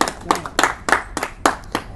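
Rhythmic hand clapping at a poetry recitation, about six crisp, evenly spaced claps, close and moderately loud with quiet gaps between them.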